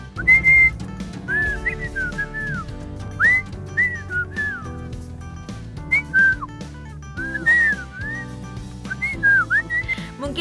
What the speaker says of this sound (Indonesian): siulan digunakan oleh para pasangan muda di sana untuk saling mengekspresikan cinta.